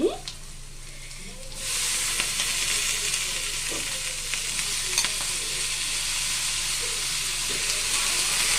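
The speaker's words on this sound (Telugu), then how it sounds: "వంకాయ వేద్దామండి." Eggplant pieces tipped into a pan of frying onions with turmeric bring on a loud, steady sizzle that jumps up after a quieter start and holds, with faint stirring clinks.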